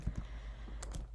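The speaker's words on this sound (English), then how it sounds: "We're going to start typing" Typing on a computer keyboard while entering property data: a few sparse, quiet key clicks in two small bursts, near and otherwise unaccompanied.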